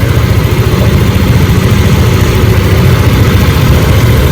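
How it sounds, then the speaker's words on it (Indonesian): A Yamaha Lexi scooter, just repaired after fault codes 12 and 46, idles steadily with a loud, close, even engine rumble and constant mechanical vibration, with no voices over it. "Yang pasti ini motor udah hidup dan normal."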